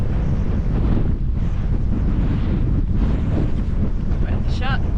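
Strong wind buffets the microphone on a seaside jetty, a loud continuous rushing roar with low rumble throughout, and a faint whistling tone near the end.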